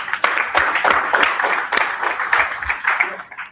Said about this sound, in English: I would like you to give a special round of applause to our speakers.